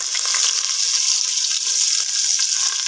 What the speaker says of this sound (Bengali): এই পেঁয়াজ কুচিটা আমি ভেজে নরম করে দেব